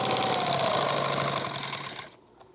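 Sewing machine stitching a chest rig attachment, a loud rapid mechanical chatter that runs steadily, then slows and stops near the end.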